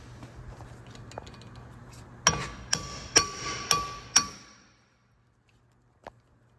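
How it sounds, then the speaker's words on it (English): Five sharp metallic rings from a hammer striking a hammer driver on the brake rotor screws of a 2013 Kia Sorento 3.5L AWD, evenly spaced with ringing decay, followed by one fainter knock. "As you hammer on the end of it, it drives into the screw and it turns at the same time"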